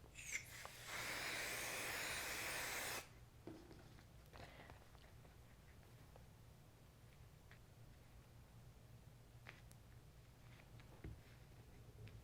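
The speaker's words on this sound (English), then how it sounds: "we're going to use a little craft spray base to sandwich the 2 layers together" A loud, steady hiss of craft adhesive spray lasting a couple of seconds, then quiet room tone with faint taps and handling.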